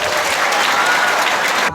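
An audience claps steadily through a student quiz show: dense, even applause from start to finish with no pauses or voices.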